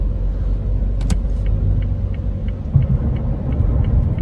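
A car merging onto an Interstate 70 ramp heading east, steady road rumble and engine drone from inside the cabin, with faint rhythmic ticks over the constant noise.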